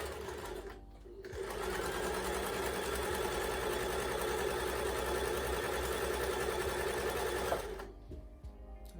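A sewing machine stitches and gathers fabric for a cropped top, a steady close mechanical whir that starts after a short pause, runs continuously for several seconds, then stops with faint handling sounds.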